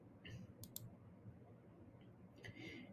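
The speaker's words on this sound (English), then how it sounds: "I'm going to click create labels" Computer mouse clicks, a couple of quick, faint, sharp taps close together in an otherwise quiet room.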